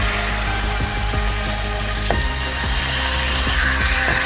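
Chicken pieces added to hot frying spice masala for a coconut-milk chicken curry, a loud steady sizzle with repeated scraping strokes of a spoon stirring the pan.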